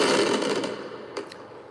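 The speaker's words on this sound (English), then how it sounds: "Fireworks." Fireworks crackle and pop in a dense burst that fades out, then a short second crackle follows, heard from some distance with no talking.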